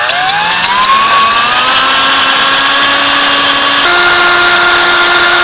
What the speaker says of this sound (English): next you need to start drilling and just try to go in as straight as possible